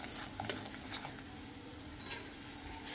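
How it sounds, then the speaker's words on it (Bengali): Poppy seeds and tomato frying in a pan for a Bengali fish posto dish, a steady soft sizzle with faint stirring scrapes throughout, with no voices. "এইভাবে এবার আমি কিছুক্ষণ পোস্তটাকে ভাজবো টমেটোর সাথে।"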